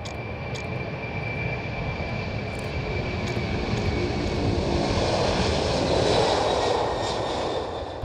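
An Air France Airbus A321 airliner at Schiphol airport produces a steady, loud roar of engine noise that swells slightly as it taxis or passes nearby, with broad rushing hiss throughout.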